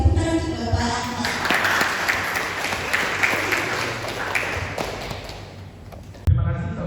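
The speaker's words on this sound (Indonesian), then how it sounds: "jangan lupa untuk berikan tepuk tangan untuk Bapak Akmal" Applause breaks out at a mock campaign press conference, a room of clapping hands running for about six seconds under a voice before it cuts off abruptly.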